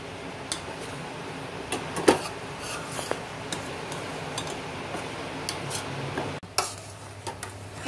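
Gul papdi mixture stirred and roasted in ghee in a pan, with a soft sizzle and scattered scraping clicks of the spoon against the pan, close and steady.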